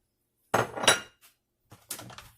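Spiced chicken being mixed in a bowl with a utensil, giving a few quick close clinks and scrapes in two short bursts separated by silence.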